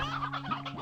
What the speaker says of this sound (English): Wait, there's some briar hens.